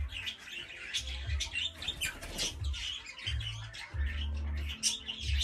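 Colourful pet birds, white, yellow, green and red, kept in a workshop aviary, chirp and tweet in quick bursts alongside soft wing flutters, fairly close and moderately quiet, with no talking.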